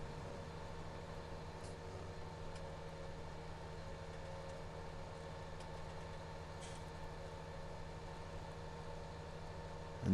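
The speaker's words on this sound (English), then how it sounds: "There is our combine, chewing his way through the grain." A combine harvester working through grain, heard as a faint, steady engine drone with a constant tonal hum and no change in level.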